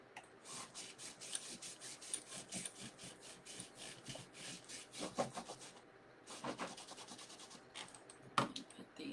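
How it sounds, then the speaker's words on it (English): Hard scrubbing in quick, rhythmic back-and-forth strokes, loud and close, with a brief pause partway through before the vigorous rubbing resumes. "Just seems like we have to scrub pretty hard."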